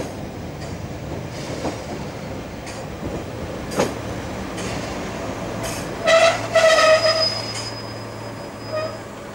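A Pacer diesel multiple unit passes on a railway line in the Greater Manchester area, a steady rumbling roll with clattering wheels and a brief rising squeal midway, moderately loud and without talk.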